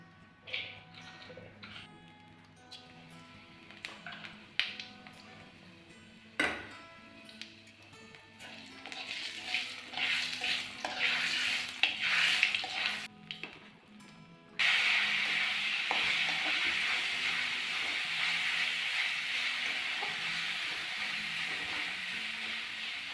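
Boiled pumpkin with green chilli and nigella seeds frying in oil, with scattered clicks and scrapes of stirring at first, then a sudden loud, steady hiss of sizzling that continues to the end.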